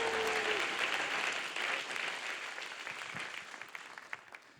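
A crowd applauds and cheers for Jesus in a steady, dense wash of clapping that stays loud throughout and thins slightly toward the end, with a few sharper individual claps standing out.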